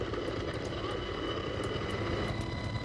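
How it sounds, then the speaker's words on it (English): A continuous, dense helicopter engine drone with steady rotor-like pulsing, loud and enclosed, heard from inside a combat rescue helicopter in flight, without any voices. "Justin and Dwayne's helicopters are en route to the NATO hospital with 6 critically wounded Afghan civilians"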